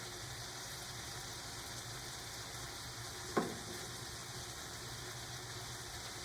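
Onion, pepper and garlic sizzle steadily in chicken pan juices, with a constant hiss throughout and a single sharp clack of a utensil partway through.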